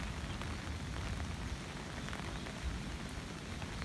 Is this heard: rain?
yes